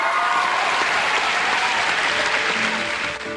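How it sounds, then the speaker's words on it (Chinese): A theatre audience at a crosstalk comedy troupe's anniversary celebration gives sustained applause to welcome teacher Feng, a dense, even roar of clapping that carries on throughout. "掌声欢迎冯老师。"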